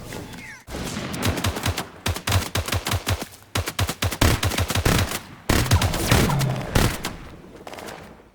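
Minigun fire in Fortnite, with several long rapid bursts of automatic gunfire separated by brief pauses, loud and close, some shots overlapping as multiple weapons fire at once.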